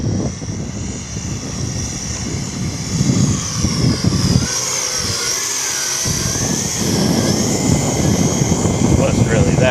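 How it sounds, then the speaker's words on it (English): A JJRC H28C quadcopter drone with gimbal flies fast through a tent in a loud, steady, high-pitched rotor whine that holds throughout, with a brief dip partway before rising again. "See if I can do a high-speed fly through the tent here."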